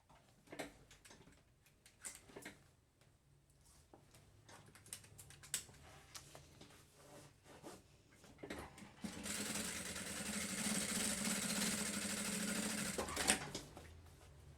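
Scattered clicks and taps of fabric handling give way to a sewing machine running a steady reinforcing seam on a thermal lunch bag, a close, even whir lasting several seconds before a final click.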